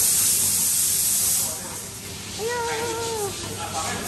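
A pressure cooker releases steam as a loud, steady hiss that fills the whole stretch. It eases slightly midway, and a brief voice-like tone rises over it.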